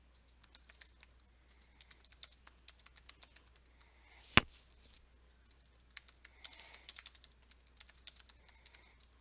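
Irregular taps and clicks of typing on a computer keyboard, fairly faint and close, with one brief sharper click partway through and no talking.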